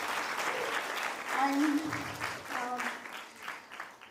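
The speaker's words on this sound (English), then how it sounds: "So one applause for your teachers." Audience at a declamation grand finale applauding the teachers, a spread of clapping rising under a speaker's voice and carrying on through the rest of the moment.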